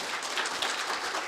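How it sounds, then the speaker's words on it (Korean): Audience applause at the close of a policy conference session, a steady, even wash of many hands clapping that stays at a constant level throughout, with no voices over it. "다시 한번 큰 박수 부탁드리겠습니다"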